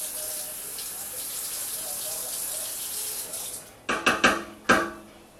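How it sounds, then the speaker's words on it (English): A kitchen tap runs steadily in the background as a spoon is rinsed under it, ending with several sharp clinks and knocks of metal against the sink. "I want to rinse that off because I had it in my mouth"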